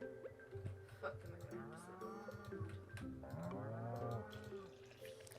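Cow in the farming game Stardew Valley gives a long, full moo with a rising and falling pitch. It is loud and close, with no talking over it.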